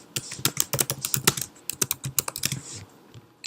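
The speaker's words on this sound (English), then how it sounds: "I'm going to type my title right here" Someone types a title on a computer keyboard, a quick, irregular run of close, crisp key clicks in short bursts with a brief pause near the end.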